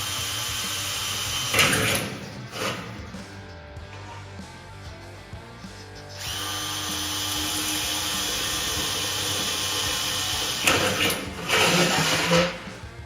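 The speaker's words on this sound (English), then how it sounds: "drill the holes through the plexiglass and rivet it" Power drill boring holes through plexiglass during a backyard bar cupola roof installation, with sustained motor whine in long runs separated by brief pauses and higher-pitched bursts, close and fairly loud.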